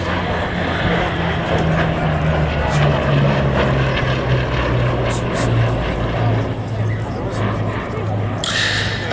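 Bristol Blenheim light bomber with Mercury radial engines flying at a Duxford Battle of Britain air display, giving a loud, steady propeller-engine drone with a low, wavering throb that holds for the whole stretch.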